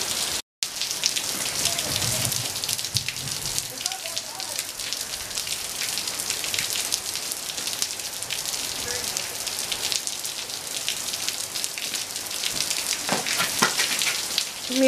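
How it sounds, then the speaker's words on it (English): Heavy rain drums on a vehicle on a road trip, a dense, steady patter of drops on the surface throughout, loud and close, with a brief bump near the start and no speech. "It is raining much more now."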